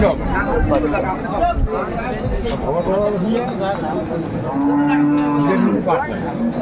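Dairy cows with calves low and moo at a busy cattle market in Ambari, Dinajpur, one drawn-out moo standing out near the end while people talk and haggle all around.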